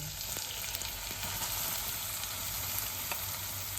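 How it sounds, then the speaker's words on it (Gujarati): Grated carrots sizzle in hot ghee in a wok, giving a steady, moderately quiet frying hiss with a few soft stirring scrapes; there is no talk. "ઘી થઈ ગયું છે ગરમ આપણે હવે નાખીશું ગાજર"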